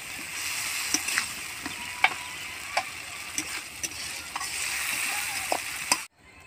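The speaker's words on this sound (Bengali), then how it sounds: "সবগুলো একটু ভালোভাবে ভেজে নেব" Chopped ginger and other ingredients frying in a pan in a village kitchen, a steady close sizzle with scattered sharp pops and crackles throughout, ending abruptly in near silence.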